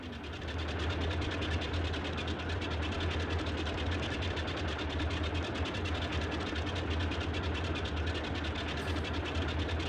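Boeing 247D radial engine running in Microsoft Flight Simulator, a steady loud cockpit drone with a deep low rumble and dense mechanical clatter, continuous for the whole stretch with no talking.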